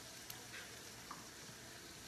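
Carrots and diced chicken frying in a cast iron skillet for chicken fried rice, with a steady, close sizzle, a few faint pops and no talk.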